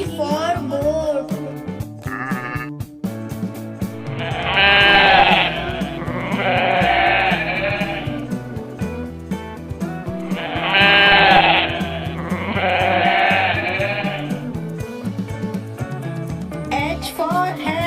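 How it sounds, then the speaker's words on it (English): Two pairs of goat bleats ring out over a cheerful, bouncy children's phonics song backing, each pair a wavering, nasal call followed by a second. "G for goat."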